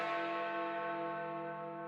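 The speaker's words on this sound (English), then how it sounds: "these quarter bells are followed by the hammer strike on the largest bell" The great hour bell of Big Ben at the Palace of Westminster, London, hit once by its hammer, ringing out loud and close as a single sustained, richly overtoned tone that slowly decays.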